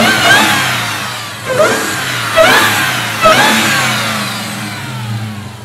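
A Dodge Hellcat engine revs up in several sharp bursts over a steady low rumble, loud and close.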